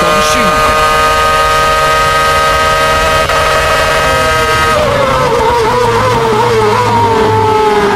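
Formula One cars racing side by side into turn one at the Brazilian Grand Prix, with Schumacher and Kimi Raikkonen, a steady high-pitched engine whine that drops in pitch as one car passes.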